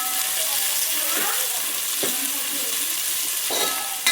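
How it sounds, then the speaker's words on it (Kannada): Spices such as garam masala frying lightly in a few tablespoons of hot oil for dal khichdi, a steady, close sizzle with a few scraping stirs of a spoon against the pan. "1-2 ನಿಮಿಷ ಫ್ರೈ ಮಾಡ್ತೀವಿ, ಅಷ್ಟು ಸಾಕು"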